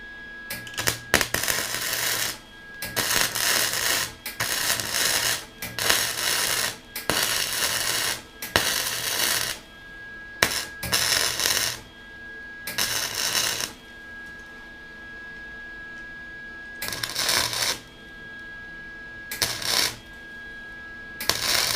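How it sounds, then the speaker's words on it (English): Welding a crack in a dirt bike frame: repeated bursts of loud crackling, buzzing arc noise, each a second or two long, separated by short quiet pauses with a faint steady tone. "now I'm going to weld it up"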